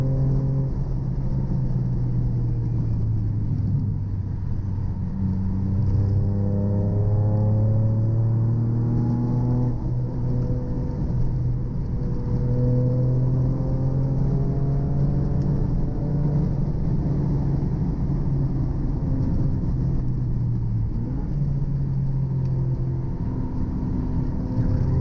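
Toyota GR Yaris cars lap the Donington track, one on Nankang AR1 tyres and Motegi Racing wheels, engines loud and close as the revs climb and drop repeatedly through gear changes and corners, with no talking over the steady roar.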